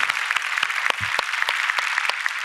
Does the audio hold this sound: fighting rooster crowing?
no